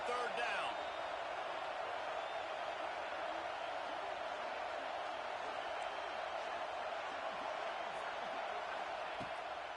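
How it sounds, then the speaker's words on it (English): A dense stadium crowd roars steadily throughout in an NCAA 26 college football game, sustained and loud as the home fans get behind the defense on third down. "Decibels rising as the crowd gets behind this defense on third down."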